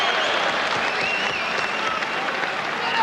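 A boxing crowd at the Lloyd Honeyghan versus Robert Smith fight roars and applauds after a right-hand punch, a broad, steady wash of cheering and clapping that holds at a constant level throughout.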